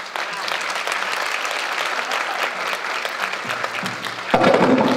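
Sustained applause from a gala fundraising audience fills the hall, steady dense clapping throughout that swells louder near the end.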